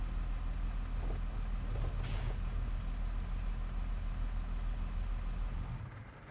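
A truck in Farming Simulator 22 idles with a steady low engine drone, then gives a brief sharp air-brake hiss as it parks, before the engine dies away at the end.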